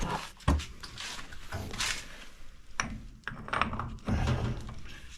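Bike gearbox gear pulled off its shaft and flipped over by hand, giving a few close metallic clicks and scrapes with ratcheting rattles spread across several seconds.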